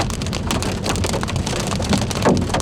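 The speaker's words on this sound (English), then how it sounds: "Alright, we're starting to get into the hail core of the storm." Hail from a storm's core, with stones as big as tennis balls, pelts a car in a dense, loud, continuous patter and drum of impacts on the body and glass, with no voices.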